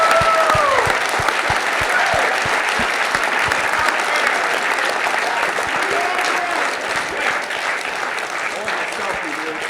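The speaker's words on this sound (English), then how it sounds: "please give them one more round of applause for coming out" Loud, sustained applause from an audience at a recovery-themed evening event fills the room, thick continuous clapping with cheering voices and scattered whoops on top.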